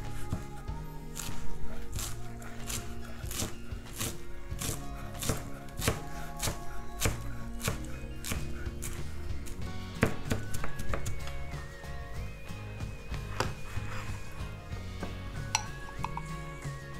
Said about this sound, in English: Chopping some coriander to put above the salad.